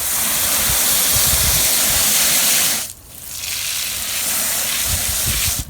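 Water is poured over fodder seeds in a tray to submerge them, a steady close rushing splash that breaks off briefly partway through and then resumes.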